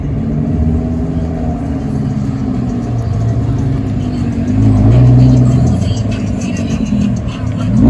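Car engine revving loudly at a night car meet, a deep continuous rumble that swells louder around the middle before settling back, with crowd noise in the background.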